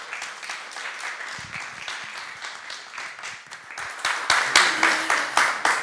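An audience at a press conference for Audrey Pulvar, candidate for Île-de-France, applauds steadily, with the clapping swelling louder toward the end, and there is no talk over it.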